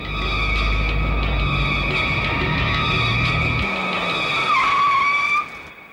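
A car skids to a halt with a long, loud, wavering tire squeal over engine noise, rising briefly near the end before the sound cuts off abruptly.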